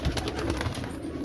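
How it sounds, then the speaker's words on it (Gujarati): Fed pigeons stirring inside a breeding loft make soft, low coos and light rustling, steady and close, with no voices. "હવે કબૂતર બધા ખાઈ પીને ચડાઈ ગયા છે, ઉપર ચડવા માંડ્યા છે."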